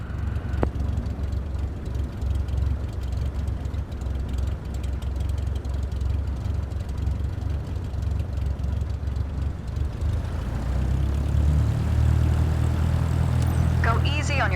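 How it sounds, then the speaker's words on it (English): A light aircraft engine in Microsoft Flight Simulator 2024 drones steadily, then throttles up to a louder, fuller hum near the end as the plane starts moving. "gently increase throttle to get the aircraft moving"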